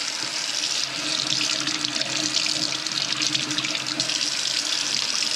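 Food, likely shrimp for siu mai, rinsed under a running kitchen tap, a steady close rush of water splashing continuously with slight shifts in flow.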